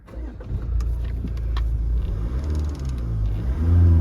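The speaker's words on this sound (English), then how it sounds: "I'll just start the car up." A Jaguar XE 2.0-litre diesel engine turns over and settles into a low, quiet, steady idle, rumbling close by, with a slight rise in revs toward the end.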